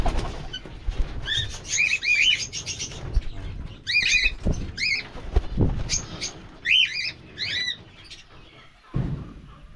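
Pigeons in a coop flutter their wings and give repeated short, high calls in clustered bursts. The sounds are close, with scattered thumps and rustling between the calls.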